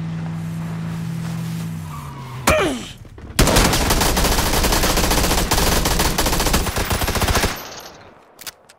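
Video game combat between cars: an engine drones, something screeches with a skid, then dense rapid automatic gunfire rattles loudly for about four seconds before cutting off, leaving a brief quieter tail.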